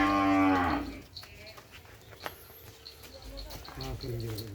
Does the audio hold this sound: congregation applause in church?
no